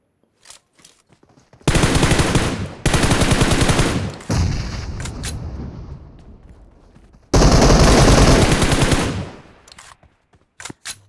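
Loud bursts of automatic gunfire from a shooting video game, several long sustained volleys with scattered single shots between them, heard up close with no talking.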